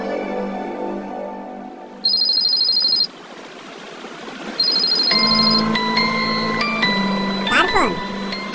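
Phone ringing in a Bangla drama scene, a loud electronic ringtone with bursts of repeated beeping tones followed by a melodic ringtone, with voices nearby.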